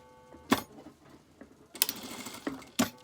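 A sewing machine stitches an elastic waistband casing on trousers: short bursts of mechanical whirring and clatter start and stop a few times, close and moderately loud, with no talking.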